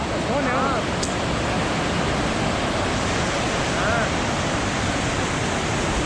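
A river rushes beside the Kedarnath trekking route in Uttarakhand, a loud, dense and continuous roar of flowing water that stays close and steady throughout.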